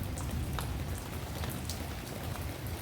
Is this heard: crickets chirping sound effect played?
no